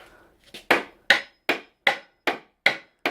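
Sharp hammer blows drive a wooden stake into the ground, about seven close, loud strikes at a steady pace after a couple of lighter taps.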